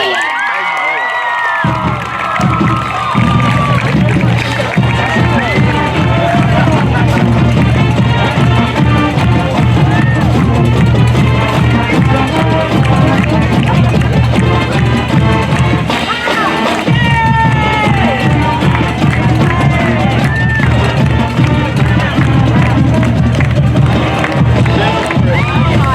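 A large crowd at a LaFayette High School homecoming pep rally and bonfire cheers and shouts loudly and without a break, with someone speaking over the roar.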